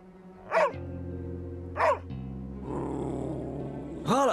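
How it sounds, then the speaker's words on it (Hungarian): A dog gives three sharp, separate barks, spaced about a second and a half apart, near and loud against a quiet background with a low hum. "Valaki elhallgattatná a kutyát?"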